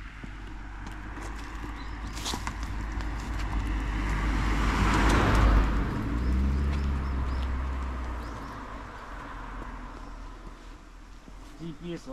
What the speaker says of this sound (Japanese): あ、車来ちゃった。